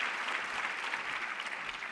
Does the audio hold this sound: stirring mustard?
no